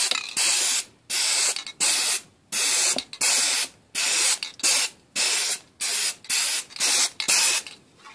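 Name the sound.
spraying Rustoleum NeverWet coating on a smartphone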